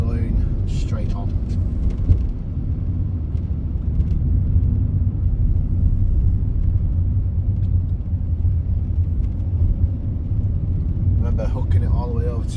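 A car drives a test route out along Clough Road in Hull, giving a steady low engine and road rumble throughout, with an instructor talking over it.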